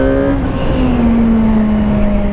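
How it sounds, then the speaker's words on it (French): A 2017 Suzuki GSX-R 1000 sport motorcycle pulls through a curve, its engine a loud, close steady drone with a smoothly shifting tone as it accelerates progressively. "Un moteur assez progressif."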